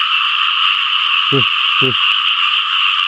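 Two distinct, close frog croaks, about half a second apart, stand out over a dense, steady chorus of small paddy frogs heard during a frog-catching outing.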